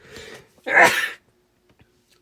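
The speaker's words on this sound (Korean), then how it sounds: "재채기가 나와서" A single loud, sharp sneeze bursts out close by after a short stretch of someone speaking, followed by near silence and then speech resuming.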